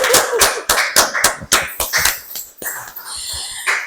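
Audience applauding at a church gathering led by an evangelist pastor, a burst of sharp, uneven claps close and loud that thins out toward the end.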